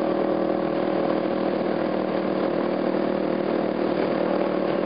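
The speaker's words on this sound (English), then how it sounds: "motorcycle." A 250 motorcycle engine drones steadily and loudly from the rider's seat while cruising in hot city traffic, with a continuous buzzing tone and wind rush throughout.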